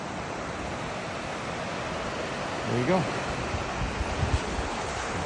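Steady broadband wash of ocean surf at Kaanapali Beach, Hawaii, with wind noise over the microphone and a brief voice speaking near the middle.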